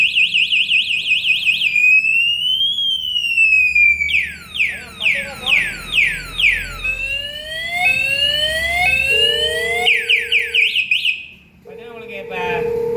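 An anti-theft alarm lock on a hybrid electric Pulsar motorcycle sounds a loud cycling electronic alarm of sweeping whoops, chirps and warbling tones that shift pattern every few seconds, then cuts off near the end.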